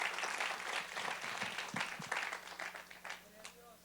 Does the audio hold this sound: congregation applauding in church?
yes